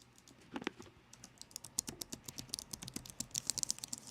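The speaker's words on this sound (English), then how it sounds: "It's got this nice clickety clack to it." Keys clatter on an HP Omen 17 laptop's optomechanical keyboard, a quick uneven run of crisp clicky strokes that speeds up toward the end, close and fairly quiet, with no talking.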